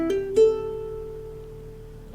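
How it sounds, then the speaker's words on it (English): Ukulele hammer-on lick onto open strings: two quick plucked attacks, the second notes ringing out clear and sustained, fading slowly over a couple of seconds, solo and close. "the first lick is going to be hammering on to open strings"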